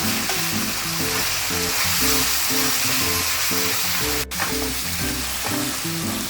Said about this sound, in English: Fry it on high heat, high flame. And keep stirring it.